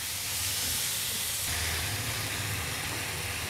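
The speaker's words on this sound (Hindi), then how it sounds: "फ्लेम को हाई करके 2 मिनट हम चिकन को सॉटे कर लेंगे." Marinated chicken sautéing in a pan over a high flame, a loud, steady sizzle and hiss throughout, close and continuous with no talk.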